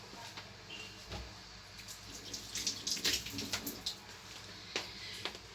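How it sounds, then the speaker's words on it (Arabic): Running tap water splashing over hands at a sink, a steady close wash with brief louder splashes and rubbing, no talking. "هغسل ايدي معلش ثواني واجي"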